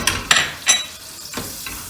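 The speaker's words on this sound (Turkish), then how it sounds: "geriye kalan 3 yemek kaşığı sıvı yağımızı ekleyip eritiyoruz" Oil sizzling and hissing as it melts in a pan on a stovetop, made for a Turkish leek börek. Bursts of sizzle and stirring scrapes come close up, with no talking.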